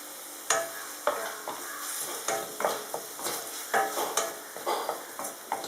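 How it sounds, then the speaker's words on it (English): Tomato goes into a sizzling pan of spicy mushroom biryani, with a continuous frying hiss broken by repeated sharp spoon scrapes and clanks against the pot at an irregular stirring rhythm. "Now I'm adding tomato."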